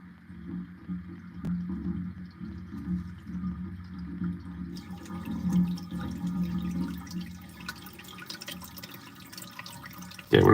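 Water runs from a household sink tap in a steady low rush, with faint drips and clinks over it, then a sharp louder burst of water at the very end.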